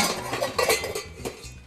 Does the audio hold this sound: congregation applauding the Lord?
no